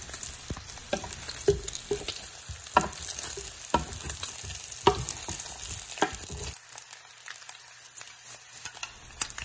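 Pork belly stir-fried in a pan, a continuous sizzle broken by repeated sharp scrapes and taps of a spatula at irregular intervals, with the frying noise thinning out in the last few seconds.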